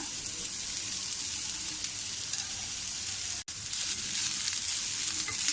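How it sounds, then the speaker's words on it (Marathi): Grated fresh coconut fries with onions in a pan, giving a steady, bright sizzle that holds loud and close throughout, with only a brief break near the end and no talking. "आपल्याला हे व्यवस्थितपणे भाजून घ्यायचं आहे खोबरं"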